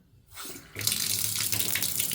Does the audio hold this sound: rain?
no